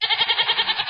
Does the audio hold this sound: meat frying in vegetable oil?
no